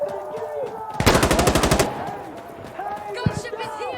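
Automatic gunfire from the video game Insurgency: Sandstorm, heard as a loud burst of about a dozen rapid shots in a steady rhythm, surrounded by quieter battle noise and players' voices shouting.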